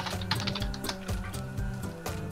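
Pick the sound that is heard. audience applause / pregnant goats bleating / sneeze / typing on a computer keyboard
typing on a computer keyboard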